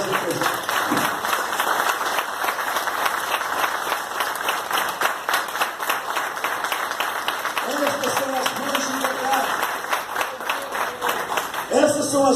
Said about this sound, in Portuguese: eu te convido nesse momento para aplaudir a sua memória por aquilo que elas representam